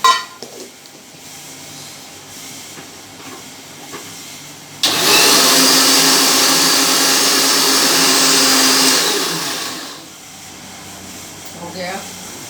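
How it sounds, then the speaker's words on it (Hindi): A mixer grinder grinds ingredients for stuffed capsicum, starting abruptly as a loud, steady whirring roar that runs about five seconds before winding down, with brief kitchen talk before and after. "ये भी पीसना है।"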